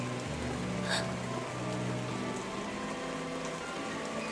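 Rain falls in a visual novel game scene, a steady, fairly quiet wash of hiss and patter with a faint low tonal hum beneath and one brief brighter splash early on.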